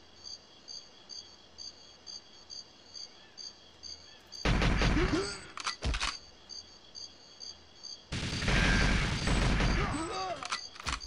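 Gunfire in GoldenEye 007 breaks out in two loud, dense bursts, one short and one longer, over a steady chirping of crickets in a jungle level.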